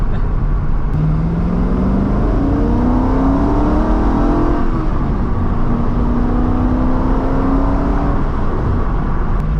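A Corvette C5 Z06 with a rebuilt engine accelerates hard at about half throttle, its engine note climbing through the gears with a brief shift dip, loud and steady over road roar from inside the car.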